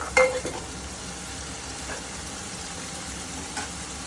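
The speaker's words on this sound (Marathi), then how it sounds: "कस्तुरी मेथी हलवायचं कमी आचेवर।" Kasuri methi is stirred on low heat into an onion-garlic masala for dhaba-style palak paneer, giving a faint, steady sizzle with soft spoon scrapes near the start.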